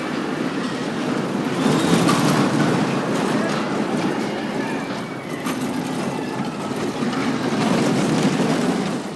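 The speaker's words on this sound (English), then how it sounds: "they're sending a test train" An empty roller coaster test train rumbles and clatters along its track at Fantasiana theme park in Austria with a steady rolling roar, fairly close, swelling slightly at moments.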